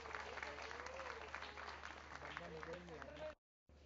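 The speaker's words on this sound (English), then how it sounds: "can we have a big round of applause for Mr." Applause from a concert audience, a dense, steady wash of clapping close to continuous with speech-like tones layered over it, running for over three seconds before cutting out abruptly.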